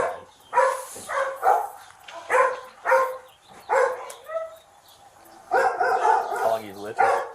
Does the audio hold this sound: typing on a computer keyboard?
no